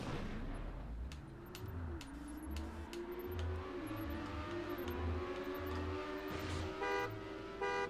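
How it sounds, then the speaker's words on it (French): A normal car horn honks from a modded Beetle-style vehicle in the racing game TrackMania United Forever; a short tonal horn blast stands out near the end over faint engine revving and scattered game effects. "c'est un klaxon normal"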